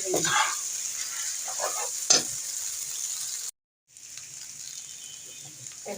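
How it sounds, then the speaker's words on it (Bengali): Boiled Maggi instant noodles going into a hot pan with spices, giving a steady close sizzle and frying hiss with a few stirring scrapes, a brief sharp clatter near two seconds, and a short drop to silence midway. "সেই নুডলসটা এখন দিয়ে দিচ্ছি।"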